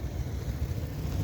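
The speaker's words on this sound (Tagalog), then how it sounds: "May motor oh." A motorcycle engine running close by gives a steady, low rumbling drone mixed with rough wind noise, continuous for just over a second.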